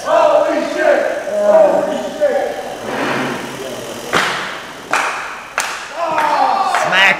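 Professional wrestling crowd cheering and clapping, a steady roar of voices under loud commentary, broken by several sharp slaps and thuds from the ring.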